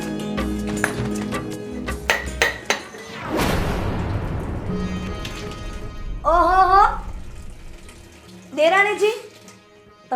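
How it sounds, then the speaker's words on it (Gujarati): Dishes, pots and utensils washed under a running tap, with a few light clinks of metal followed by a steady rush of water, and voices talking over it later on. "તમે વાસણ ધોઈ રહ્યા છો?"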